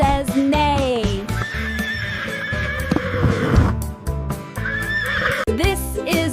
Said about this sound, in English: This is a horse. The horse says neigh.